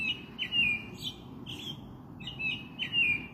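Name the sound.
birds chirping at night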